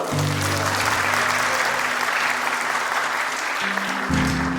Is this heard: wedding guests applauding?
yes